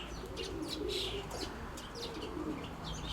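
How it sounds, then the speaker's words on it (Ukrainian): Low, soft cooing of a white pigeon repeats under steady wind noise outdoors, with brief higher chirps and a light flutter mixed in. "Перший раз голубка зачепилася ненадовго."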